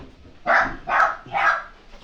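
Dogs waiting to be fed bark loudly and close by, three evenly spaced barks about half a second apart with a fainter fourth at the end.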